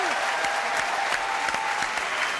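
A live television studio audience breaks into sustained applause, dense steady clapping filling the room throughout, with faint crowd murmur beneath.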